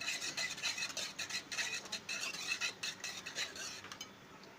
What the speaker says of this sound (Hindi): इस तरह से फेंटेंगे।